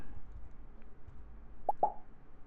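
Two quick, soft pops sound close together, light cartoonish plops against a faint low background hum.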